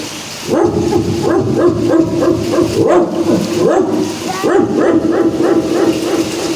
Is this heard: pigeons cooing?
no